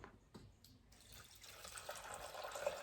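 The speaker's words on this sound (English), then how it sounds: "I forgot I need to add some water" Water poured into a pot of dal while cooking makes a faint, steady running stream that starts after a brief quiet moment and builds slightly, heard alone.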